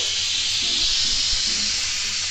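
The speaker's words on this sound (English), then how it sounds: "We're going to release the steam" Steam rushing out of an Instant Pot's quick-release valve after cooking lasagna soup, a loud, continuous hiss that stays steady for the whole moment with nothing else over it.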